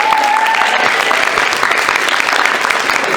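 Audience applause at a convention stage show, loud and continuous clapping from a crowd filling the room, sustained and close throughout with a faint voice beneath it.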